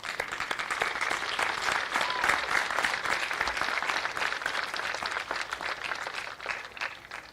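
A graduation ceremony audience applauds school staff, with many hands clapping in a dense, sustained roar that stays even throughout and eases slightly near the end.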